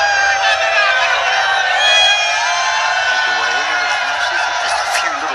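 A large crowd roars and cheers steadily in a packed cricket stadium during an India vs New Zealand T20 match, a dense continuous swell with whistles and horns, while a commentator talks over it.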